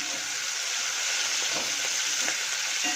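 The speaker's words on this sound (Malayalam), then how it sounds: "ഒരു മുഴുവൻ ക്യാപ്സിക്കം എടുത്തിട്ടുണ്ട്. നന്നായിട്ടൊന്ന് വഴറ്റി കൊടുക്കാം." A whole capsicum sautéing in hot oil gives a steady, close hiss of sizzling, with a few soft stirring scrapes breaking through the continuous frying noise.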